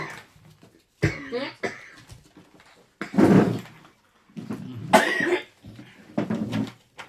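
Repeated harsh coughs come in several bursts, close and loud, with short gaps between fits.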